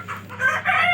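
Desi chickens and chicks cluck loudly and close, a short burst of several rising calls in quick succession.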